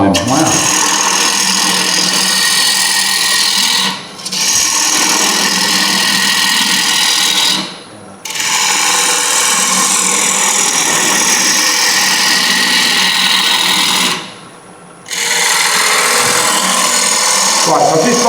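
A wood lathe cutting away material from a spinning bowl blank during a demonstration, loud continuous roaring cut broken by three short pauses where the tool lifts off.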